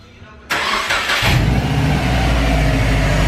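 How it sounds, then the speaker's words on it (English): A 2013 Subaru WRX engine cranks and catches about half a second in, then settles into a loud, steady idle close by, with no talk over it. "Let's start the car, though, Chins."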